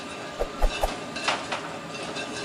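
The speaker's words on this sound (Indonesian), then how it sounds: "setelah jalur rel selesai dibersihkan, lokomotif mencoba untuk berjalan kembali" A sugarcane rail locomotive on a narrow-gauge plantation line starts moving again after the track is cleared, with low rumbles and a few heavy clanks and thuds as it gets under way, close by and with no talk.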